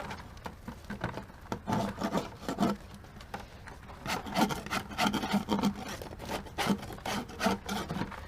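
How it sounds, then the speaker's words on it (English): Wax is scraped off wooden beehive frames with a hive tool in steady, repeated rasping strokes, a close and fairly quiet rhythmic scratching with no talking. "Going to get all the wax scraped off."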